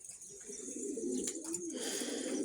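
Pigeons coo in a steady, low, throaty murmur that carries on without a break, close by and moderately loud, with several birds overlapping.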